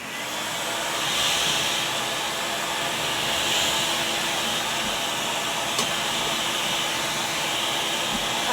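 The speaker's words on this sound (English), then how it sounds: "here goes the Dremel" A Dremel rotary tool runs steadily for several seconds, a close, continuous high whirring hiss that swells slightly and holds at a constant pitch, with no talk over it.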